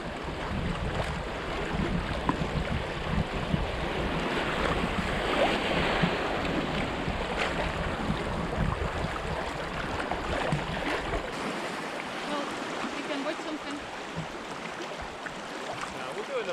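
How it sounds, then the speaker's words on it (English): A canoe runs down a fast river through grade 2 rapids between Bassenthwaite and Cockermouth, with continuous rushing, splashing water and wind buffeting the microphone, loud and steady throughout. "So we've got our first set of grade 2 rapids coming up."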